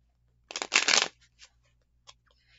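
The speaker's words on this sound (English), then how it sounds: "I was trying to shuffle." A deck of tarot cards is shuffled by hand, one loud riffling burst followed by a few softer flicks and taps of single cards, close and alone.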